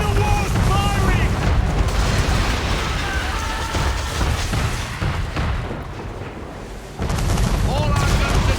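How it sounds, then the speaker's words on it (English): Heavy booming cannon fire from a man-of-war ship during an Assassin's Creed 3 naval attack, a loud continuous rumble of blasts with shouted voices over it. "We're under attack! Man of war's firing!"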